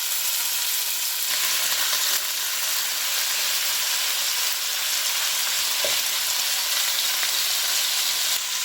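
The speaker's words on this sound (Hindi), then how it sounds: "अब मैं इसमें जो मैरिनेट चिकन किया था हमने वो मैं इसमें डाल दूंगी।" Marinated chicken frying in hot oil for a restaurant-style butter chicken makhani, giving a steady, dense sizzle with a faint, brief clink partway through and no voices.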